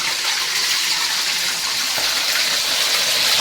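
Stuffed crabs fry in hot oil for an Agari-style crab chilli, making a loud, dense, unbroken sizzle with spattering crackle throughout and no one talking.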